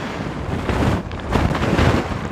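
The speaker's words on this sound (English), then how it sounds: "Very strong wind here on the top of the mountain." Strong wind roars across an exposed mountain top on the Fagradalsfjall volcano trail in Iceland, a loud, steady buffeting rush that surges and dips as gusts hit the microphone, with no voices.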